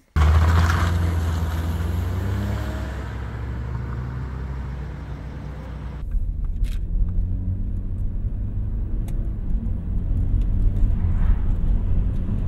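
A 2006 Saab 9-3 Arc with a turbocharged engine driving on a public road, a steady low engine and road rumble from inside the cabin that shifts in tone partway through, with no talk.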